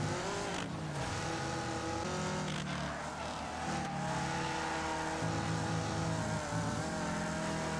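A racing engine in the video game Wreckfest drones loudly and continuously, its pitch stepping up and down through gear changes, with no voices over it.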